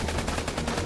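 Thugs fire their guns in The Amazing Spider-Man 2 video game, a dense, continuous rattle of rapid gunshots that stays loud and steady through the whole short burst.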